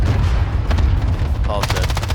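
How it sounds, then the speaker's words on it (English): Enemy cluster strike explosions in Call of Duty sound as a dense, loud burst of rapid booms and gunfire-like cracks, continuous and close, with a fast rattling run of blasts near the end. "Enemy cluster strike. Cluster incoming."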